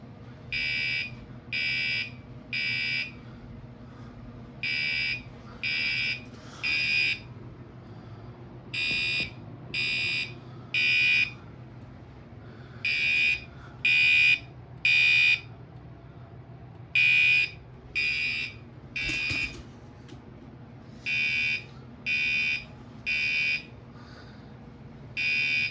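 A newly replaced fire alarm sounds repeatedly in short bursts of three shrill beeps with brief pauses between groups, loud and piercing over a quiet room, no talking.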